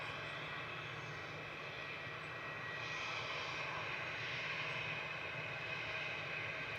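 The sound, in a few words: aircraft taxiing out at Manchester Airport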